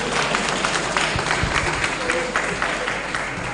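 Audience applause at an African Traditional Medicine Day event, a dense steady wash of clapping that holds at an even level throughout, with faint background voices mixed in.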